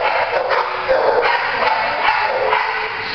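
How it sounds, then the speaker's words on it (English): A dog barking in quick, repeated yips and woofs across a noisy mid-range band, steady and fairly close, with no talk over it. "She can sleep right through a barking dog."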